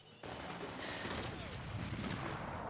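Gunfire in the Max Payne 3 video game breaks out after a brief silence and becomes a continuous loud volley of shots, dense and close, lasting to the end.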